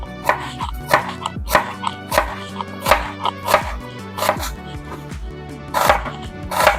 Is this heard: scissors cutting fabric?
no